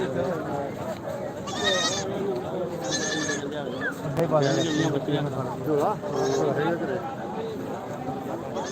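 A male goat bleats several times in drawn-out, wavering cries, near and fairly loud, with people talking in the background.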